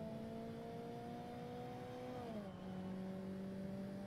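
Vauxhall (Opel) road car driving in the video game Forza Motorsport, its steady engine drone holding a constant pitch, then dropping as it shifts and settling again at a lower steady tone, loud and close with no talk.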